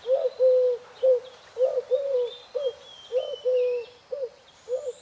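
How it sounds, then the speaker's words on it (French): A turtledove coos close by in a steady rhythmic series of soft repeated calls, with faint higher bird chirps in the background; no wing flaps stand out. "il délivra la tourterelle qui s'enfuit à tire d'aile."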